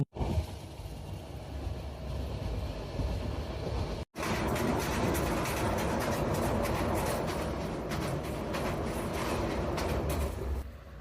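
A passenger train moving along the rails in Bangladesh, a steady loud rumbling roar with rattling carriage noise that continues throughout, broken by one brief dropout partway through.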